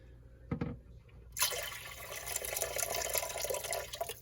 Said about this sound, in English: We're going to add a little bit more water right here.